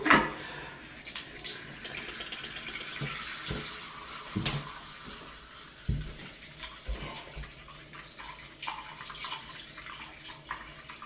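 Tap water runs steadily into a sink during a shave, a continuous close splashing flow with small knocks and clatters on top, and no one talking.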